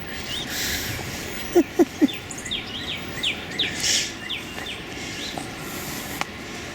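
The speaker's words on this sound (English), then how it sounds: "All kinds of other birds I hear" Several birds, including juncos, chirp and call intermittently in an open backyard garden, with short high tweets scattered over a soft outdoor background.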